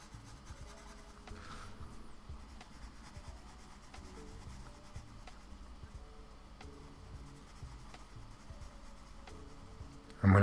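A marker drawing on cheap paper during an inking session, a steady close scratchy rubbing stroke that continues throughout at low level with a soft, even texture, a brief louder bump at the very end.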